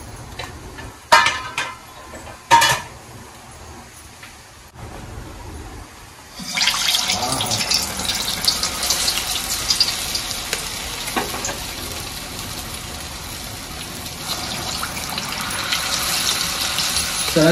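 Lentil fritters (garelu) drop into hot oil and set off a loud, steady sizzle that begins abruptly and keeps going without a break, with a few clinks of a pan just before.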